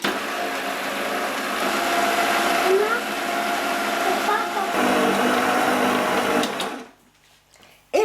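A stand mixer slowly kneads brioche dough for chocolate and plain milk buns, giving a steady whirring motor drone with a faint rhythmic churn that cuts off near the end, leaving a brief quiet.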